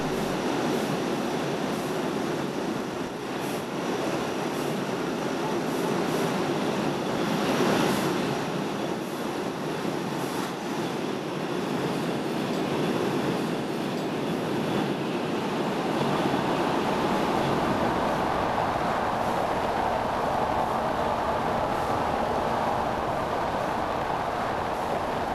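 Regional train running on the Ionian railway in Calabria near the coast, a steady broadband rumble and rolling rattle of carriages that stays loud throughout, with no speech.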